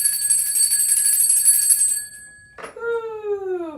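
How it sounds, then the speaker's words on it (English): A bell rung to clear energy, sounding one long sustained ring that fades out, then a brief gap and a second strike with a clear, bending tone that rings on, near and loud, with no talking. "So let's ring the bell and clear the energy,"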